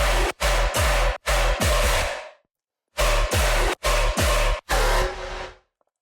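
Heavy, distorted tearout dubstep growl bass blasts in chopped rhythmic bursts with a short gap midway, loud and gritty, ending in a fading tail.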